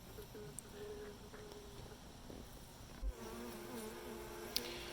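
Honey bees buzzing faintly around a queen cage at a new hive, a soft continuous drone with wavering tones and a couple of small clicks, quiet and without talk.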